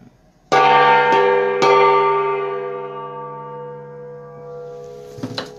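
A large gong struck three times in quick succession, each loud metallic hit ringing out with a long shimmering decay that fades slowly, followed by faint background sounds near the end.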